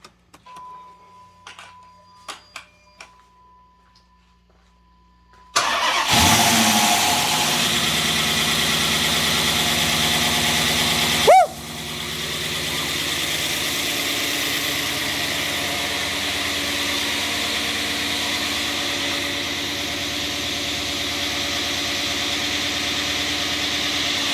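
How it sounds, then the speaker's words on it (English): A freshly rebuilt 5.7L Hemi V8 cranks and catches after a quiet lead-in, then settles into a steady, loud, continuous idle with a brief surge partway through; no talking over it. "But all things considered, I think we're ready for a first start."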